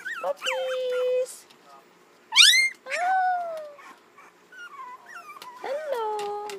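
Puppies whimper and yip in a run of high, rising and falling cries, close and fairly loud, with brief gaps between them and no talking.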